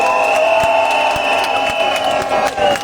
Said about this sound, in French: Applaudissez-vous très très fort